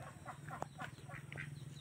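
Farm ducks raised alongside chickens quack in a rapid, repeated series of nasal calls, moderately close and faint, with a steady low hum underneath and no talking.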